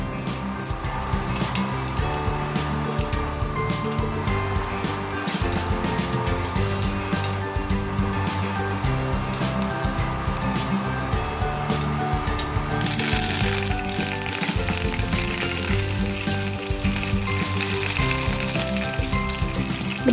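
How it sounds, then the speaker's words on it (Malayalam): Mustard seeds crackle and pop in hot coconut oil for a Kerala-style mango pickle, with a dense continuous sizzle that surges brighter and louder partway through as curry leaves hit the oil; no voices. "കടുക് നന്നായി പൊട്ടിക്കഴിയുമ്പോൾ നമ്മൾ അതിലേക്ക് കറിവേപ്പില ആഡ് ചെയ്യുകയാണ്."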